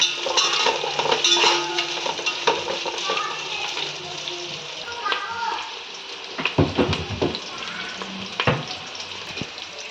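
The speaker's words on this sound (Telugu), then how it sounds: "తర్వాత ఆనియన్, కొంచెం బ్రౌన్గా వేగాలి." Onions fry in a pan until brown for a mushroom biryani, with a steady close sizzle, intermittent stirring and clinks of a utensil against the pan, and a voice speaking over it at times.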